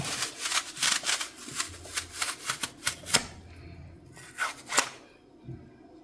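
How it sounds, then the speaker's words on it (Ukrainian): Sharp clicking and crunching as a kitchen corer cuts out the core of an apple, a run of quick irregular snaps and scrapes, close and fairly loud, with a quieter stretch toward the end. "Спочатку ось таким гаджетом вирізаю серцевинку."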